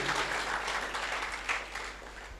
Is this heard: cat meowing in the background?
no